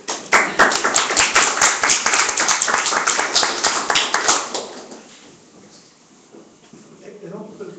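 An audience at a lightning talk claps in a dense, lively burst of many hands for about four seconds, then the applause fades quickly into quiet room noise.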